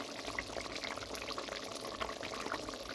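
A pot of crab curry bubbles and simmers steadily at close range, with a constant wet gurgle and no talking.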